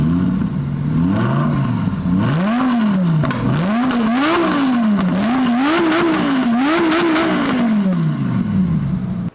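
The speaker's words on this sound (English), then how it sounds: "A bone stock Gallardo exhaust." A bone-stock Lamborghini Gallardo V10 on its factory Superleggera exhaust revs repeatedly, the engine note climbing and falling in a string of loud, close blips that end in a long drop in pitch.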